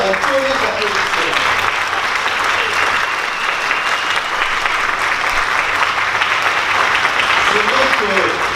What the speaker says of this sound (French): Parce que je crois que vous pouvez nous faire un premier applaudissement.